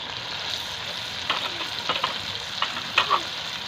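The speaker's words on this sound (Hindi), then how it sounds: "चंद मिनट इसे फ्राई करना है," Green chilies frying with tomatoes and onions for a beef karahi, a steady sizzle broken by several short stirring scrapes and clinks near the pan, with no speech.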